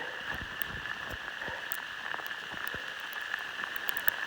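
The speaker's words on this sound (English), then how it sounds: "This is all Sleet coming down." Sleet comes down on a mountain trail near Derrick Knob Shelter, making a faint, steady patter of soft ticks and taps that runs unbroken throughout with no voices.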